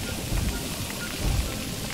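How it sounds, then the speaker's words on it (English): Steady rain pours from a small rain cloud hovering over a character in the Lego Harry Potter video game, a continuous soft hiss with low, rumbling swells and no voices. "There is Filch, though, with a rain cloud above his head."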